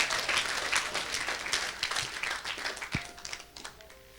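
Church congregation clapping through a Sunday worship service, steady dense applause of many hands filling the room, with a few sharp taps and faint voices underneath before it thins out near the end.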